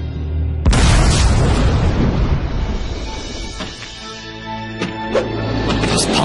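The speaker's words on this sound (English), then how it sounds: "Those pumpkin bombs sure came in handy." A pumpkin bomb blasts in the Spider-Man 2 game, a sudden loud burst followed by a long, crackling rumble that slowly fades with a few small pops.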